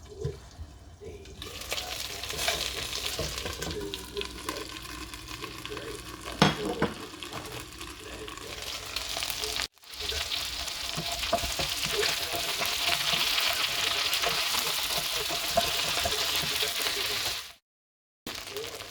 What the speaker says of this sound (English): Lightly saute this for at least 2 to 3 minutes or until you can really smell the spices